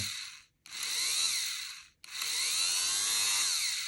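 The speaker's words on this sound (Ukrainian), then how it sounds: "ось ця насадка встановлена на стріпері DF8. І коли він починає обертатися, то леза сходяться." DF8 enamel wire stripper whirring as its rotating blade attachment spins, two loud high-pitched motor bursts separated by a brief stop, close and without any talking.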